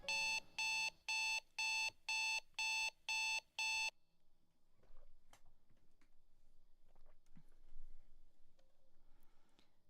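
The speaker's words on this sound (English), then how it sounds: "The obnoxiously loud alarm on Adrian's phone rang throughout the empty apartment." A phone alarm rings in the video game Heart Agency with eight loud, regular electronic beeps in a row, then stops and leaves a quiet background with faint scattered clicks.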